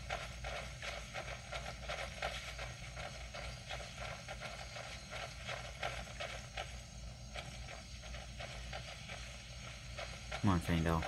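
Horse hooves clip-clop at an even walking pace in Skyrim, quiet and steady with faint creaks of tack, ending with a brief louder rustle.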